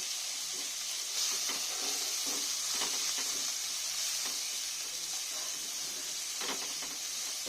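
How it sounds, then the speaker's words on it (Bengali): Turmeric and cumin powder frying in a pan for fish curry, a steady soft sizzle and hiss with occasional light stirring scrapes throughout, no voices. "এক চামচের মতো জিরের গুঁড়ো দিলাম। এই আমি মশলাগুলো ভালো করে কষে নেব।"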